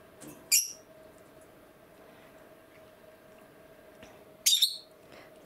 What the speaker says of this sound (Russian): И желтые попугаи. Чирик-чирик.